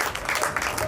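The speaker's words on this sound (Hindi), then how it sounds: "इजाजत हो तो, तालियों के साथ स्वागत हो तो।" Crowd applause welcoming a poet at a Hindi kavi sammelan, a brief dense burst of clapping that fills the room evenly.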